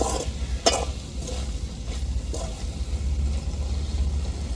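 Carrot poriyal with masala cooking under a lid in a pan, giving a steady low sizzle and hiss with a couple of faint clinks near the start. No one speaks.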